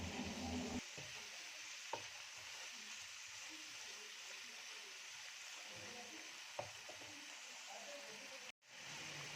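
Crushed green chilies fry in a pan for chicken fried rice, giving a soft, continuous sizzle with a few sharp clicks of stirring and a brief break near the end.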